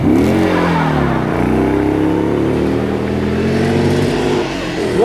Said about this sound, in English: the good old Moggy three-wheeler. This has got a 2-litre V-twin